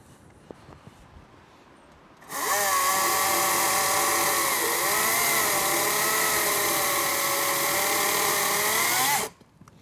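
A small Greenworks battery pruning chainsaw, about 2.3 kg, whirs up abruptly, runs at a steady high-pitched whine for several seconds, then cuts off into quiet.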